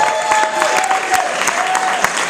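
Audience at a high school showcase keeps up a round of applause, dense steady clapping with scattered sharp individual claps and a faint tonal hum underneath, loud and close with no speech.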